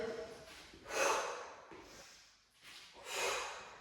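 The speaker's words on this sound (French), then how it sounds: "J'inspire." A cardio workout instructor draws in loud, audible breaths, two separate inhales with a short pause between them, close to the microphone.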